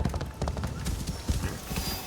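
Rapid clip-clop of horse hooves on a game soundtrack, steady galloping rhythm with a brief whinny, fairly loud and close with no talk over it.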